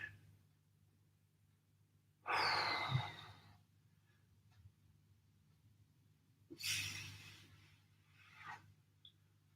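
Two deep, drawn-out breaths during a home recovery workout session, each a long airy exhale rising from near silence with a low steady hum underneath; a fainter third breath follows close behind the second.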